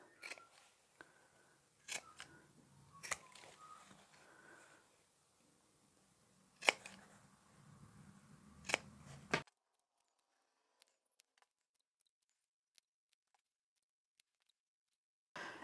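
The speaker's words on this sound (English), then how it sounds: "From here, we're going to trim our corners." Scissors snip the corners of sewn fabric chapstick holders, a few distinct sharp cuts scattered over the first nine seconds with soft handling noise between, followed by near silence and faint ticks.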